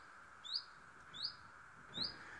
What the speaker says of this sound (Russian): Птички поют, слышите?